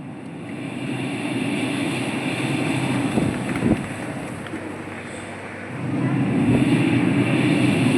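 A performer imitates sea waves with the voice on stage, producing a rushing, breathy roar that swells, eases, then surges louder again, close and continuous.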